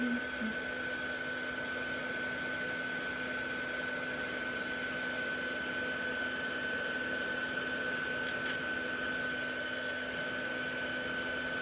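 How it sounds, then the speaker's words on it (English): A hairdryer blasts a freshly printed resin 3D print of Catwoman and Batman, a steady, constant close-up whoosh with a faint electrical hum running unchanged throughout. "so I'm going to give this a blast with the hairdryer."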